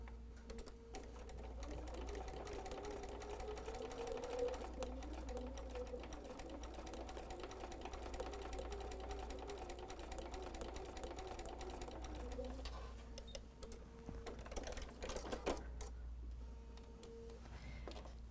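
A sewing machine stitches quilt fabric along a drawn line at a shortened stitch length, running as a steady, fast mechanical whir for most of the stretch before slowing and stopping near the end, with faint talk underneath.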